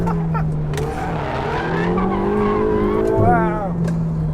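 A 2015 Ferrari 488 GTB supercar drives hard, its engine droning steadily with a rising squeal of tires near the end, close and loud, while someone talks over it.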